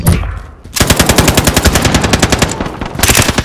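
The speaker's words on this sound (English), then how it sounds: "Heavy fire." Automatic machine gun fire in Call of Duty: Modern Warfare rattles out as one loud, rapid, even burst of about two and a half seconds, close up, with a short pause near the end before the fire resumes.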